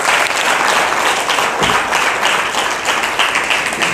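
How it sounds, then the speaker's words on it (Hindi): Loud, sustained clapping from a church congregation at a worship service, a dense wall of applause filling the whole stretch with no speech over it. "एक अच्छी ताली, यस, जोर से।"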